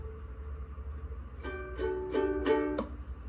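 Five ukulele strings tuned to G C E A are plucked one after another in a steady sequence, each note clear and ringing quietly in a still room.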